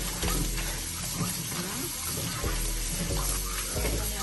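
Turkey neck or oxtail being washed under a running kitchen tap, a steady gush of water with occasional splashes and thumps as the meat is handled.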